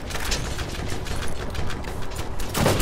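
Rapid, sustained gunfire rattles in a Borderlands shooter game, a dense stream of loud shots with a heavier burst near the end.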